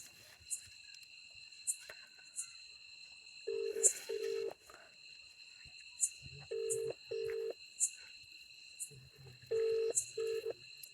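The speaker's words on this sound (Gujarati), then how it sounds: "આના ફોન કરવા દે" Telephone keypad tones dialing a number, several short beeps in two quick bursts over a faint steady hum and scattered clicks, with no voices.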